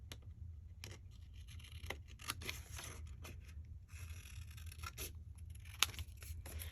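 Soft, repeated snipping and scraping of short scissors cutting tags over a low steady hum, faint and close, continuing unevenly throughout without talk.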